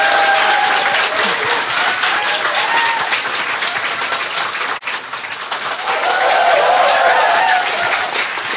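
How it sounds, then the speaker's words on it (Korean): Studio audience applause on a Korean talk show, loud sustained clapping that briefly dips midway and then continues, with faint voices underneath. "박수 부탁드립니다."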